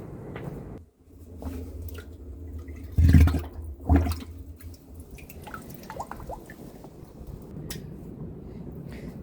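Chrysanthemum cuttings set in compressed compost get a thorough watering, with a couple of brief splashing pours of water amid soft dripping and quiet background.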